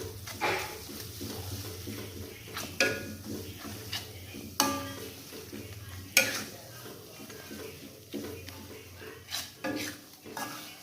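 A spoon stirs sautéed red chili spice paste in a pan, giving soft sizzling under a string of sharp metallic scrapes and clinks at an irregular pace, close and fairly quiet, with no speech.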